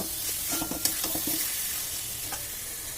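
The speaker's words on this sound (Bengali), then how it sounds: "আলুগুলো দিয়ে মশলার সঙ্গে ভালো করে মিশিয়ে নেব।" Fried potatoes are stirred into a sizzling spice masala for a fish curry. A quick series of spatula scrapes and knocks rides over a constant frying hiss before the stirring slows, heard close and with no one talking.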